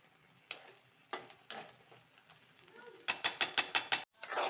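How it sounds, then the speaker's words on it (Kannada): Thick coconut burfi mixture stirred in a pan with ghee, a spoon scraping in short bursts and then a quick run of rhythmic strokes, close and fairly quiet. "ಅಲ್ಲಿವರೆಗೂ ಈ ಥರ ತಿರುಗಿಸ್ತಾನೆ ಇರಬೇಕು, ಇಲ್ಲಾಂದರೆ ತಳ ಅಂಟ್ಬಿಡುತ್ತೆ."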